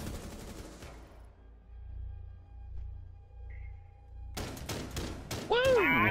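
Rapid bursts of gunfire from the Rainbow Six Siege video game, dense volleys at the start and again near the end, with a quieter hum between and a synth tone closing out.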